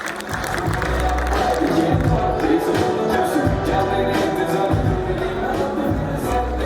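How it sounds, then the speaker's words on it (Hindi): Steady, loud audience applause with some cheering at a stand-up comedy show, a dense continuous wash of clapping that fills the whole stretch. "जोरदार तालियां"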